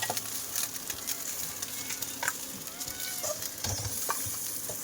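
Fish fry in hot oil with a continuous, busy sizzle and crackle, broken by occasional sharper pops and spatters, close by and without any talking.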